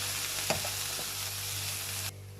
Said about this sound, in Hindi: वेजिटेबल्स जो हैं उनको मैं फ्राई कर रही हूँ